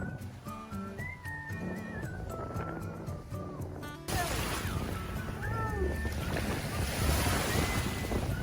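Waves from Lake Superior wash against a shore with gusty wind buffeting the microphone; the surf grows louder and rougher partway through, with faint voices in the background.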